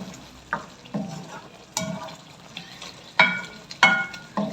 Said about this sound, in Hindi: ये जी मसाला अच्छी तरह से फ्राई हो रहा है, भुन रहा है